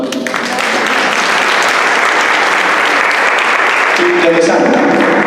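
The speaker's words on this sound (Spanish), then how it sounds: "Mamá Gallina, muchas gracias, un aplauso." Loud, continuous audience applause fills the room at a live presentation, dense clapping that stays at full strength from start to finish, with faint voices mixed in beneath it.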